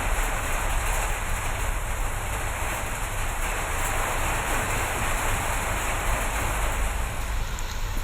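Heavy summer rain pours steadily in the Thovalai and Pandarapuram area of Kanniyakumari district, a dense, even wash of hiss and patter that holds at a constant level throughout with no voices.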